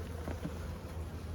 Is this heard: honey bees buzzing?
yes